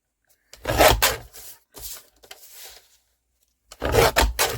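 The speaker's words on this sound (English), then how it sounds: "Let's just trim the edges off there" Paper edges being trimmed with a Tim Holtz decal edge trimmer while making a Christmas journal cover, giving two loud bursts of rasping, rubbing scrapes with softer scraping between them, close up with no talk.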